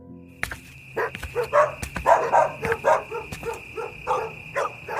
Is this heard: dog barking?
yes